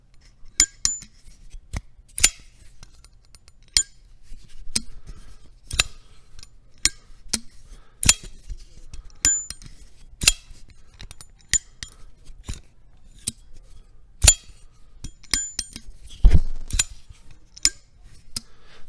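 Kizer Cormorant XL folding knife being worked, a series of sharp metallic clicks and snaps as the blade opens and locks, spaced irregularly over nearly twenty seconds, close and crisp with no voices.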